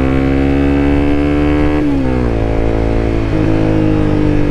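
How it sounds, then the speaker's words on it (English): A motorcycle engine holds a steady loud drone, then drops a gear with a sudden pitch shift and revs back up to high RPM, close and continuous with no talking. "let me give an example to you folk of dropping a gear"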